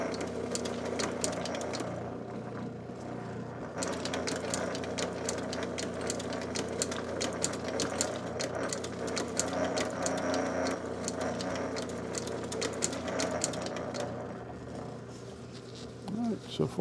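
A sewing machine runs steadily while stitching on a partly filled bobbin in a workshop, a continuous buzzing motor hum lasting throughout with a short pause near the start.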